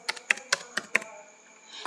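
Typing a mobile number on a computer keyboard: five distinct, close, sharp key presses at a quick, steady rhythm, then a short quiet tail, with no talking.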